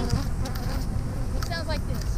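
Dense, steady buzzing of many bees fills the air close up, a continuous droning hum with no pauses.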